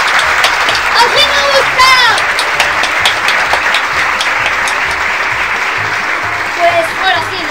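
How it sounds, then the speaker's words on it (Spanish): Television studio audience applauding at the close of a parody TV show, a dense, steady clapping that carries through the whole stretch, with a loud voice cheering over it and a few shouts. "¡Y al público! ¡Gracias a todos! ¡Aplaudid!"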